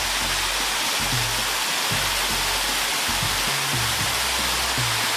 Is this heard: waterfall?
yes